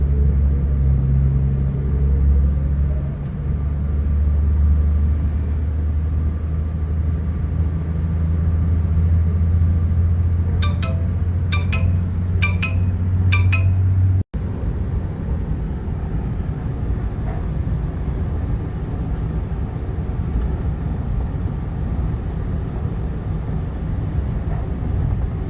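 Riding the UP Express train from Toronto's airport toward Union Station through the Weston area: a steady, loud low rumble of the moving car, with a brief cluster of sharp high clicks midway before the tone abruptly shifts to a rougher hiss. No one talks.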